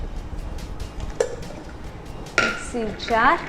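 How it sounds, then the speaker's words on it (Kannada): A steel mixer jar is picked up and set down in a home kitchen, giving sharp metallic clinks and knocks with a clattering burst near the end, while a voice talks alongside. "ಮೊದಲು ನಾವು ಒಂದು ಮಿಕ್ಸರ್ ಜಾರ್ ತಗೊಳ್ಬೇಕು."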